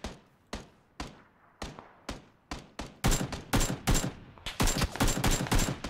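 Rifle fire in the battle royale video game PUBG: sharp single shots spaced evenly at first, then dense rapid bursts of automatic fire, loud and close, with no talking.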